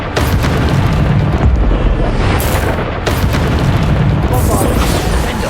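Spell blasts from the Depulso force charm in the video game Hogwarts Legacy, a dense stream of loud, booming bursts layered over constant battle noise with no pauses.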